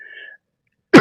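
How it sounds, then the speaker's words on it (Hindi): A single sharp, loud cough bursts out right at the end, after a short faint tone and near silence, from a teacher during a spoken lesson. "गर्म पानी पी पी के बोल रहे हैं, तो खांसियां बीच बीच में आती रहती है"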